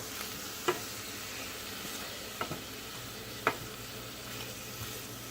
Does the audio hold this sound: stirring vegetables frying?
yes